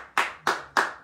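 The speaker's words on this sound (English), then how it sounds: "Everybody, let's get a round of applause to Jay Taylor." Three separate, evenly spaced hand claps ring out close and sharp, each with a short decaying tail, in thanks to a poet.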